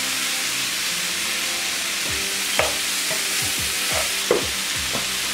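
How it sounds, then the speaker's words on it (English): Ground beef and vegetables stirred with a spoon in a cooking pot, steady sizzling and hiss under irregular scraping strokes and light knocks against the pot, close up with no talking. "Just mix it with the veggies in the pot."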